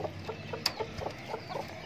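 Aseel chickens cluck softly in a short burst, a few quiet clucks and rustles close by with no talking.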